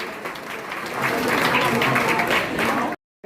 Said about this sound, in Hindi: ताली इतनी जोर से बजाओ कि हर चीज फिर खुश हो जाए